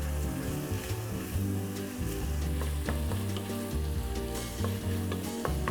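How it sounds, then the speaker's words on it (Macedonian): Onion and porcini mushrooms frying in a pot sizzle steadily and loudly from start to finish, with occasional sharp clinks and scrapes from stirring. "Пропржуваме кромидот со вргањето неколку минути, трпеливо да ја испушти целата течност"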